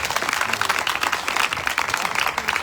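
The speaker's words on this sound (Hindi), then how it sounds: "इसलिए एक बार जोर से इनके लिए ताली बजाई जाए।" Audience applause for the hosts at a home religious gathering, a steady dense patter of many hands clapping throughout, fairly close and sustained.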